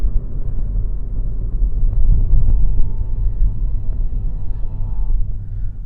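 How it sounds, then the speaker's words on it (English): A passing train heard outdoors in the dark produces a heavy, continuous low rumble that swells slightly mid-way, with faint rattling above it and no talk. "Oh, there's a train coming."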